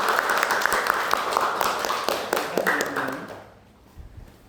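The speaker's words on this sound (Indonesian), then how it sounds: "Berikan aplaus untuk kelompok 1" Classroom applause for a student group after a presentation in a university health biotechnology lecture, a few seconds of steady clapping and tapping from several people that fades out toward the end.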